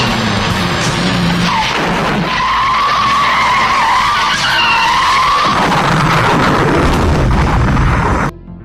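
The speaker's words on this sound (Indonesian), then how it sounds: "Hingga terjadilah aksi kejar-kejaran mobil." Tires skid and screech through a movie car chase, loud and continuous, with revving engines and crashing impacts mixed in before cutting off abruptly at the end.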